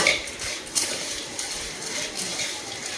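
Pani puri masala powder with mint and coriander being mixed, likely in a steel bowl: soft scraping and light metallic clinks of a spoon repeat steadily at close range, with no talking.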